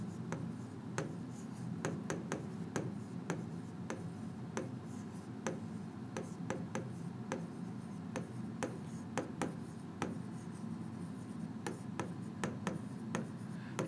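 A pen writes on paper in quick, faint scratches and ticks, a steady run of short strokes, heard close and alone while a system of linear equations is worked out.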